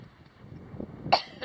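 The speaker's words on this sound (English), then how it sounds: "I have a little cough because I have a flu." A single short cough from a climber with flu on the steep slopes of Pico de Orizaba, Mexico's highest mountain, close and fairly sharp against quiet outdoor background.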